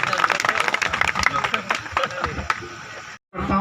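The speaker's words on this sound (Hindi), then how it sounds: "तो जोरदार तालियों के साथ इनका स्वागत" Enthusiastic audience applause welcoming a poet at a Hindi kavi sammelan, a dense burst of clapping and crowd noise that fades out, drops to a brief silence, then resumes as a softer hum.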